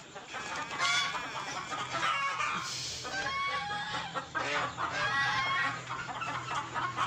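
A village hen that has been set on eggs clucks repeatedly and close up, a continuous run of soft throaty clucks with no talking.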